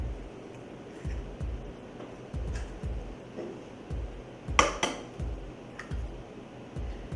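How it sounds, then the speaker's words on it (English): Two eggs cracked and beaten in a bowl for egg wash: steady, rhythmic soft tapping of a utensil against the dish, with one sharper crackling clatter midway. "you just wanna crack 2 eggs, get your egg wash in there"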